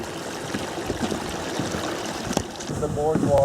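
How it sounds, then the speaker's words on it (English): A natural wild babbling brook runs with a steady, soft rushing wash of water throughout, nearby and even in level. "A natural wild babbling brook."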